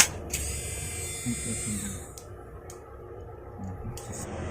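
A mini DIY rotary drill spins up with a high, piercing whine for about two seconds, then cuts out, followed by a few short bursts and faint handling noise close by.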